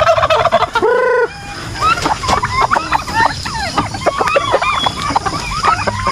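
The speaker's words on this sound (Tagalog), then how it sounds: "Ayan yung mga pabo natin dito." Free-range backyard turkeys gobble in a rapid, loud burst, followed by many overlapping gobbles and clucks from the flock nearby, some hens calling among them.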